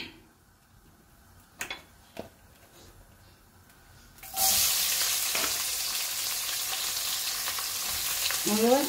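Onions drop into hot oil and begin frying for a fish masala, a loud broadband sizzle that erupts midway after a few quiet taps and holds steady to the end.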